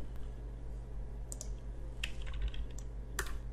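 Keys on a computer keyboard are typed at a Linux console in a few sparse, light clicks over a low steady hum, with no talking.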